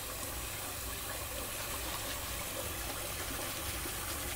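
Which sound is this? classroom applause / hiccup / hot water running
hot water running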